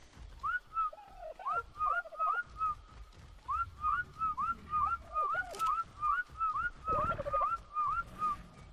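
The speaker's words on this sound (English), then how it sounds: "Can I not whistle attack my target" A whistled attack command in the video game Ark: Survival Evolved repeats as a rapid series of short rising whistle chirps in quick bursts, clear and fairly close, with brief pauses between groups.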